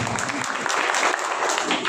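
A church congregation at a Sunday Lent service claps together in loud, dense, sustained applause that carries steadily from start to finish.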